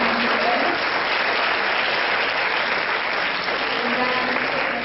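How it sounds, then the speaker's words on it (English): A lecture audience at a public university talk gives sustained applause, dense and even clapping from a large crowd at close range, holding steady throughout with no break. "give big applause once more"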